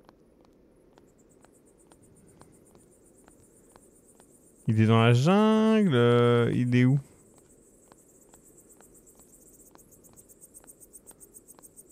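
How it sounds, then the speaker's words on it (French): Cicadas chirp in the At Tony's video game as steady, evenly spaced ticking pulses that run throughout, with a short burst of talk in the middle. "Parce qu'il y a des cigales de l'enfer."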